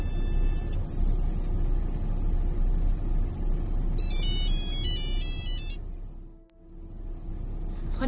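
A telephone ringtone trills in two short electronic bursts over a steady low rumble, like a car or engine idling beneath, with a brief dip in the background noise near the end.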